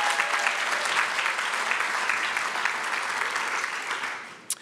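Applause from an audience at an educational leadership graduation ceremony, a steady, even wash of many hands clapping that carries on for several seconds before tapering away at the end.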